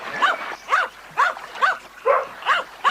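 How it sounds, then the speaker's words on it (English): A dog named Binky barks in a dramatized audiobook scene: a run of about seven sharp, evenly spaced barks, close and loud. "Stop barking."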